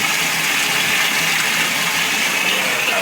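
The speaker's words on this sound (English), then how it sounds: "as you can see, it's already sucking up the water through the line" An aquarium gravel vacuum hooked to a sink faucet for a cichlid tank water change makes a steady, close hiss of rushing, sucked water with no break.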